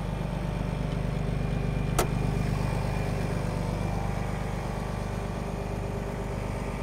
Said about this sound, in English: as you can tell, the vehicle is running